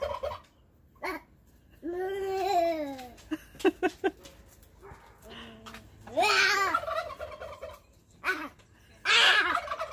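Turkeys gobble in a farmyard in several loud, bubbling bursts spread across the clip, with chickens around and faint background chatter between the calls.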